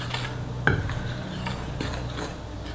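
Dough ingredients, including salt and sugar, being stirred in a bowl for burger buns made with semi-wholemeal flour, giving soft scraping and a few sharp utensil clinks against the bowl, close up.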